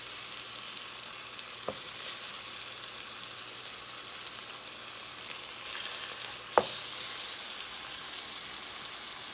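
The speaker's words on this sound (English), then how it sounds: "we're gonna add in our meat, and we're just gonna sear it on both sides" Oxtail meat searing in a hot pan for stew gives a steady, soft sizzle that runs throughout, with a couple of sharp clicks or taps and no voices.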